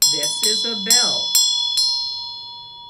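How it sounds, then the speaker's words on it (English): A hand-held bell is struck five times in an uneven rhythm during a Buddhist teaching session. Each strike is close and bright, with a long shimmering ring that overlaps the next, and a voice is faintly heard at the start. "This is a bell."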